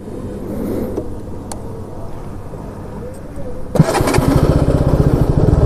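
A motorcycle heard while a rider tests riding gloves: quiet idling under talk, then the engine revs up sharply and runs with a loud, steady throbbing pulse, close by.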